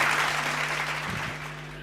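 An audience claps together in a dense, sustained burst that starts loud and slowly tapers off, with a faint hum underneath.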